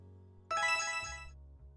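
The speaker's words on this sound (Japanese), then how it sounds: "携帯鳴ってるよ。 この音はメールだね。" In the Amnesia video game, a mobile phone plays a short, bright email notification chime that rings out for under a second over a quiet low hum.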